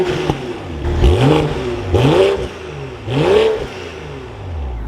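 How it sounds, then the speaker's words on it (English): A 2024 BMW X3 M40i inline-six engine runs close by and revs three times, each rise climbing and falling smoothly before settling back to a steady idle. "Let's fire this back up though and take a listen to that inline 6."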